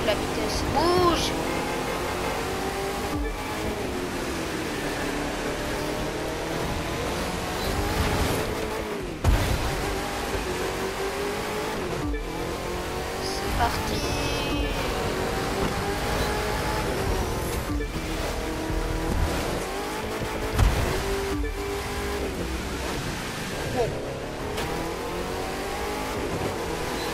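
A TVR sports car engine accelerates in The Crew 2 racing game, a continuous loud engine roar that rises and falls through gear changes, with occasional sharp bumps or impacts.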